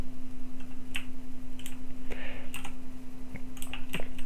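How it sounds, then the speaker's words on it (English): Loud, close computer keyboard typing, irregular clacking keystrokes in quick bursts over a steady low hum. "My keyboard is uber loud."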